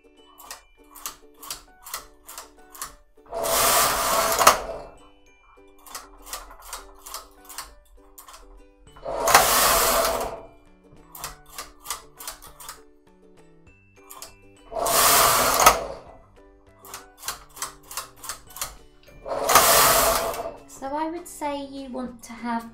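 A Silver Reed SK280 knitting machine clatters with rapid ticking as the carriage runs across the needle bed, punctuated by four loud whooshing carriage passes as rows are knitted, close and clear with no talk over it.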